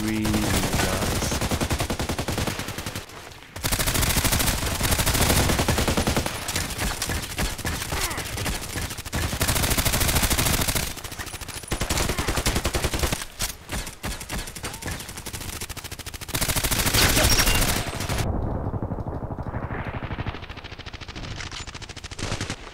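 Sustained automatic gunfire from the online shooter Contract Wars, loud dense bursts of rapid shots running almost continuously with brief gaps, ending in a quieter rumbling tail.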